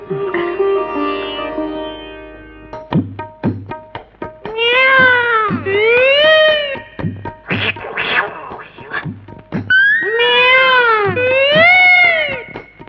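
A cat meows repeatedly, long drawn-out wailing cries rising and falling, loud and close, with brief pauses and some scratchy noises between calls.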